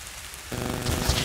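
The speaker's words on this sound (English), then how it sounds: "Alright, so it's still raining, but not good at all." Steady October rain falls in the woods and patters on rocks, making a broad, dense hiss. It grows louder partway through, with a few heavier drops standing out. No voices are heard.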